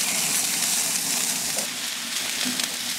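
Asparagus sprinkled with sugar sizzles steadily in hot fat in a pan, a constant soft crackling hiss at moderate level with no talking.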